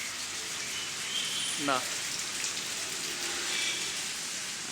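Heavy rain falls around a house in an unbroken, hissing wash of drops, with a short spoken word and a faint bird chirp briefly heard over it.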